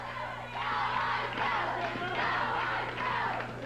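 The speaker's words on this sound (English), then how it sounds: "The fans cheering for J.C. Ice." Wrestling fans at a 1994 USWA TV event cheer and yell steadily as one dense, loud roar of crowd noise that barely dips across the moment.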